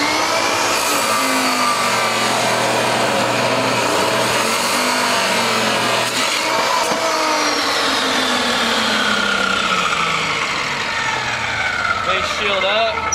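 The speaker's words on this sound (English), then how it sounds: "So today we're cutting a piece of rebar." A chop saw cuts through a piece of rebar, its motor roaring loud and continuous with a harsh, grinding metallic screech whose pitch drifts as the blade works through the steel.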